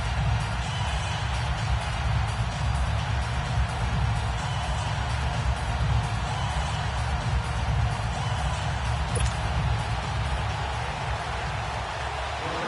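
A Baltimore stadium crowd in a Madden NFL game, Ravens hosting the Buffalo Bills at season opener, roars in a constant dense wash of cheering and applause throughout, loud and enveloping.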